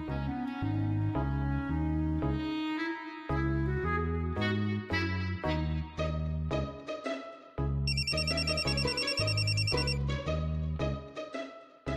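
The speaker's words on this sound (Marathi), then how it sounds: "एकदा फोन करून तर बघते" A melodic phone ringtone plays a repeating tune for about twelve seconds while a call is placed. It is clear, steady and close, and no one talks.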